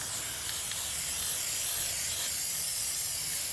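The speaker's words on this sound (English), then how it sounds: "And just spray it until it's nice and even all over." A spray paint can sprays a continuous, even hiss onto an EVA foam cosplay piece for a Wonder Woman build. The hiss runs close and steady throughout.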